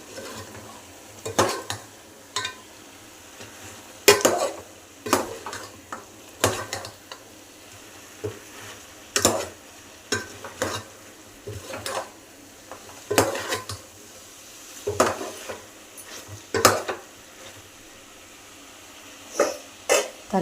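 Mutton curry with masala is stirred in a frying pan: repeated spatula scrapes and metallic clatters against the pan in an irregular rhythm over a faint background sizzle.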